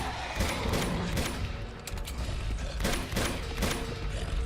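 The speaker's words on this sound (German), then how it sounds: "Ich baller dem hier mein ganzes scheiß Magazin um die Ohren." In the video game Uncharted 2, gunfire crackles in rapid, sustained bursts, loud and dense, with a few brief pauses between volleys.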